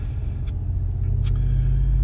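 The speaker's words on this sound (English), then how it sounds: "I really like this direct straight pipe replacement. It is loud, and you do get used to it." A 2017 Ram 1500 Big Horn pickup idles through a straight pipe exhaust. It gives a deep, steady, close rumble that swells slightly toward the end, with no talking.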